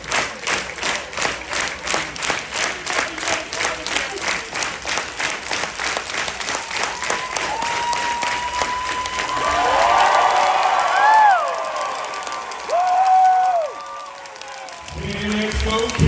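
Convention crowd at Fan Expo Canada clapping steadily in rhythm, then breaking into loud cheering and whoops that swell and fade, with shouting voices mixed in.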